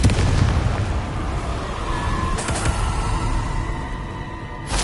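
A loud Confringo spell blast in Hogwarts Legacy, a booming explosion with a heavy low rumble and a few sharp crackling bursts midway, sustained over several seconds.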